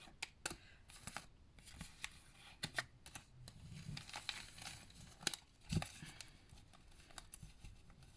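A tarot card is picked up and set aside with soft, close papery slides, taps and crinkles scattered irregularly across a quiet background, without speech.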